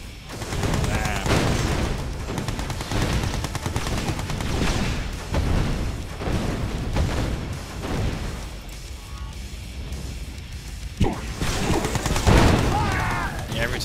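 Rapid Gatling cannon fire from the real-time strategy game C&C Mental Omega crackles in dense bursts through a 1v1 tournament match, mixed with explosions and layered under continuous commentary.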